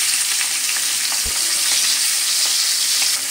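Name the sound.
pabda fish frying in hot mustard oil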